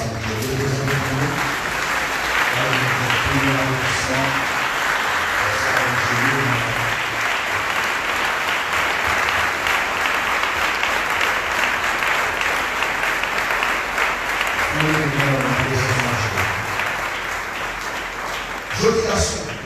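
Congregation clapping during a Sunday church worship service, a loud, sustained burst of many hands lasting the whole stretch, with singing or voices woven through at the start and again near the end.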